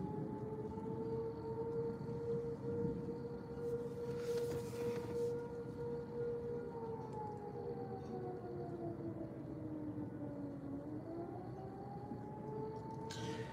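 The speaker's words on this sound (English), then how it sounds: "I don't know if you guys can hear the sirens or not, but they're pretty loud." Outdoor civil defense tornado warning sirens in southwest Missouri wail steadily at a distance, a sustained rising and falling tone that dips and swells over many seconds against faint background noise.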